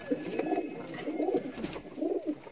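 Pigeons of mixed breeds in a loft coo in soft, rolling phrases, three distinct bursts close by with a faint background hum.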